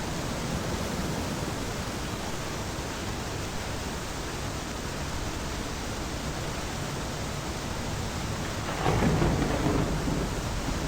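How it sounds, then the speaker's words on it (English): Steady heavy rain and rumbling thunder fill a storm in the Deadliest Catch crab-fishing video game, a constant broadband wash with a louder thunder swell near the end. "We're in a storm"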